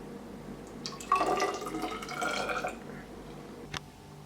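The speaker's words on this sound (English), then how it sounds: "You're then free to pour." Liquid is poured out of a lidded cup from an instrument's cup assembly in one close, short trickling stream lasting about two seconds, then a single small drip or clink, with no talk.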